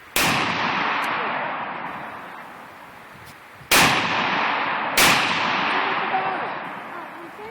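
A Mini-14 rifle fires three loud, close shots at a bottle, one early and two a little over a second apart, each crack followed by a long, fading outdoor echo.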